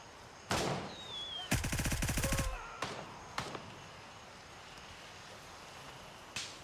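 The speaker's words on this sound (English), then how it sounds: "somebody else was shooting at me" Gunfire in the tactical shooter Gray Zone Warfare: a single loud shot, then a rapid automatic burst lasting about a second, followed by a few separate shots and one last distant crack against a quiet outdoor backdrop.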